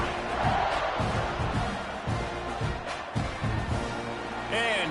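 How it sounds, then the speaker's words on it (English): Stadium crowd noise in College Football 26 during a Mississippi State at Texas A&M game, a steady loud roar of fans building ahead of a kickoff, with a brief whistle-like tone near the end. "this crowd now ready to get behind them"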